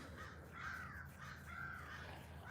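A crow caws outdoors in two or three drawn-out, faint calls spaced about a second apart over a low background hum, with no voices.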